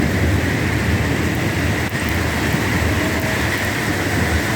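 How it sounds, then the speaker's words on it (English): Heavy rain from a summer thunderstorm pours down in a steady, dense roar, loud and continuous throughout with no voices over it. "I think that's the heaviest rain we've had yet this spring."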